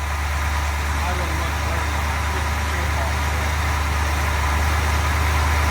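A 1970 Chevelle with an L34 396 V8 idling steadily in a garage, a loud continuous low rumble throughout with people talking over it.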